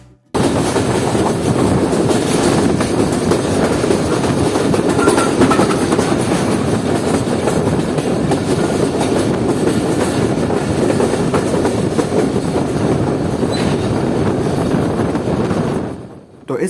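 The Awam Express passenger train runs on rails in Pakistan, heard from inside its lower AC coach as a loud, continuous rumble with rhythmic clickety-clack for about sixteen seconds before it fades abruptly.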